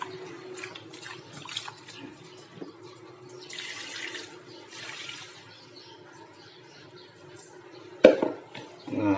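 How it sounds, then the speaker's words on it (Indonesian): Petai (stink bean) leaves being washed under a running tap, a steady trickle of water with splashing and handling noises, a louder splash near the end. "Kita cuci bersih daun petenya."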